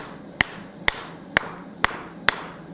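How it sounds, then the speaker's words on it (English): Five sharp, ringing metallic hammer strikes on hot metal in a swage block while forging a heart, at a steady, unhurried pace, close by and alone. "we're just going to hammer it like that to begin with"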